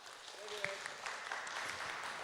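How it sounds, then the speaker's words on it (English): Crowd applause for the champions at the 2024 Honor of Kings Open EMEA Finals esports event, a steady wash of clapping that carries on throughout, moderately distant, with a faint voice briefly audible early on. "Big round of applause again for our champions."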